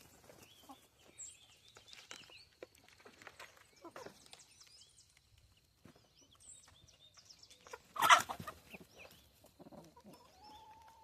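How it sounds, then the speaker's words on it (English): A young rooster in a backyard coop among other chickens gives scattered soft clucks and chirps, with one louder, sharper call near the end, all fairly quiet outdoors. "That's the young rooster."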